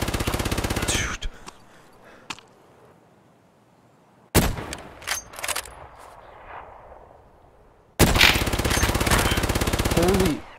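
Machine gun fire in Escape from Tarkov, a long rapid automatic burst, a pause with scattered shots and echoes, then another sustained loud burst close by.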